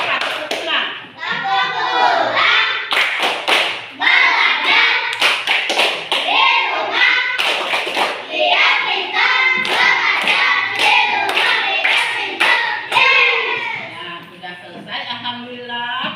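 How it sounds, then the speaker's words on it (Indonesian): A school class claps hands together in rhythmic bursts of sharp, loud slaps, mixed with a teacher's voice and children's chanting speech throughout. "Sekarang kalau mau pulang tepuk tangan dulu."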